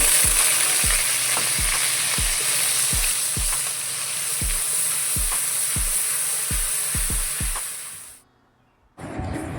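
Onion paste sizzles in hot oil with cloves, cardamom and cinnamon for a paneer masala, a steady hiss punctuated by regular knocks of a stirring spoon until the sound cuts off abruptly near the end.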